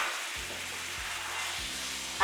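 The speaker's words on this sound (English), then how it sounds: "So, a good stir." A thick Zimbabwean home-cooked soup is stirred in a pot, giving a steady bubbling hiss with a few low, dull scraping strokes spaced through it and a louder clunk at the very end.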